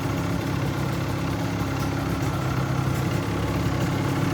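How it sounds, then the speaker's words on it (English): A motorcycle engine idles steadily in a shed, with the revs slowly settling down; the low, even drone holds close and constant throughout with no talk over it. "Let's see if these idles come down."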